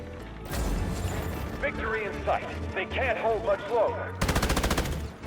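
Rapid bursts of machine gun fire in the FPS game Delta Force, loud and close, with a fast rattling volley near the end, under an excited voice talking over it.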